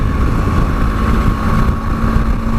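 A 2018 BMW G310GS motorcycle rides at motorway speed, making a loud, steady engine drone buried in heavy wind rush across the microphone.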